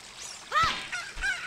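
Chicken squawking in the Nintendo game The Legend of Zelda: Ocarina of Time, several rising honk-like clucks in quick succession over quiet game background.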